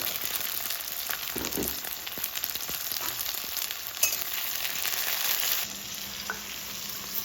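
Cashews fry in oil in a pan for an egg curry paste, a steady close sizzle and crackle with a few stirring scrapes, the hiss easing slightly toward the end, with no talk.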